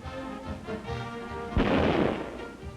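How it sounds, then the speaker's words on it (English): Heavy army guns fired by West Point cadets, with a loud, broad boom erupting about halfway through and rolling on for a second before fading, set against lower rumbling noise and music-like tones earlier. "all types of new guns are demonstrated, with the cadets doing the actual loading and firing"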